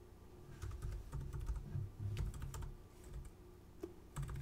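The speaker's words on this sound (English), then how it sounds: "Just type in whatever." Quick, uneven keystrokes rattle on a computer keyboard, close and fairly quiet, with brief pauses between clusters of typing.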